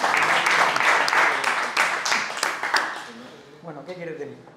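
Applause from an audience at a book presentation, with sharp individual claps that fade after about three seconds, giving way to someone talking.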